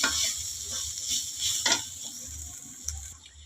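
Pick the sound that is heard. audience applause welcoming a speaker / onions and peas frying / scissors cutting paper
onions and peas frying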